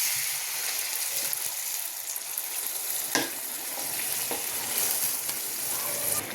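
Spice paste with Kashmiri red chilli powder fries in a pan, giving a steady, dense sizzle with occasional scraping stirs, close and continuous with no talking.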